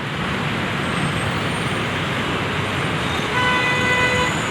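A TransJakarta Skywell electric bus at the Semanggi bus stop, heard amid steady roadway traffic noise with a short horn toot and a faint rising electric whine near the end.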